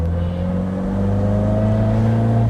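A 1967 Morgan Plus 4 Super Sport with a 2.2-liter engine and Webber carburetors runs steadily at close range, a loud, even idle with a deep low hum that swells slightly toward the end.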